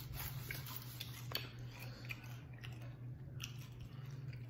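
Close, wet chewing of plain birria tacos, with soft moist smacks and small crunches in an irregular rhythm over a faint steady hum, with no talking.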